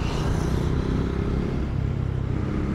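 A motorcycle goes past on the road, its engine a steady drone that fades out over a few seconds, heard alone with no talking.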